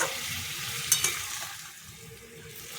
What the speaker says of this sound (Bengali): তো এটাকে ভালো করে আগে কষে নিই এই দেখো কষা প্রায় হয়ে এসেছে